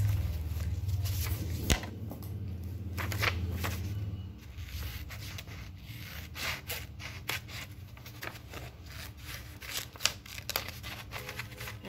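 Scissors snip through paper to cut out a grass shape for a 3D lamb craft, giving close, dry, irregular cuts and rustling paper handling over a low steady background hum.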